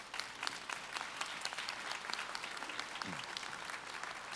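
Steady applause from a convocation audience, moderately distant and even throughout, with no speech over it.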